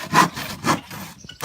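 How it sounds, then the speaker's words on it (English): A handsaw cuts through an old wooden shed door being made into a chicken coop hatch, two rough rasping strokes close and loud, then a quiet tail. "Sawing through an old shed door that we found"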